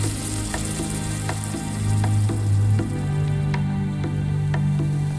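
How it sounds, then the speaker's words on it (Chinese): Lamb stir-fried in a wok with sliced ginger, garlic and scallion sizzles loudly and steadily, with a spatula scraping and tapping at a regular pace over constant frying hiss, no voices. "另起油锅，下姜片、大蒜段、蒜瓣、葱节爆香，放羊肉翻炒"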